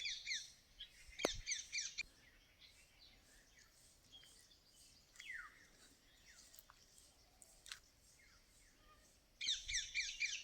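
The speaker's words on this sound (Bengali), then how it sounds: "শুনতে পাচ্ছি এদিকে টিয়া পাখির আওয়াজ" Green parrots calling in a jungle, with bursts of shrill chirping at the start and again near the end and scattered fainter calls between, heard at moderate distance against quiet background.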